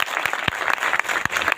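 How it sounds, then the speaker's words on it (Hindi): A church congregation claps loudly for the pastor at the end of a service, a dense burst of applause that keeps going through the clip with no speech over it. "ताली बजाएंगे जोर से।"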